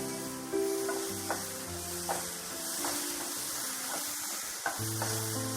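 Vegetables for dal fry (onion, tomato, ginger, garlic, jeera, dry chili) sizzle in an uncovered pan while a spoon stirs them, with periodic scraping strokes over a steady frying hiss and faint background tones.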